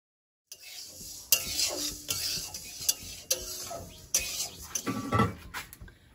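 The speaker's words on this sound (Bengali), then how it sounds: "ডালটা ভাজা হয়ে গেছে" Moong dal dry-roasts in a pan, close scraping and rattling strokes from a spatula moving the lentils, with clinks against the metal and a faint sizzle.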